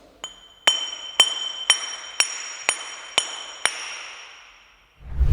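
Eight evenly spaced bright metallic pings from a hammer striking a small metal spacer, each ringing briefly, followed by a low thump at the end.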